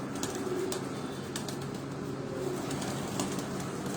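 Several Sailgodi pigeons murmur and coo together on a rooftop loft in Rawat, a dense, even, moderately close chorus with occasional light wing flutters and no voices.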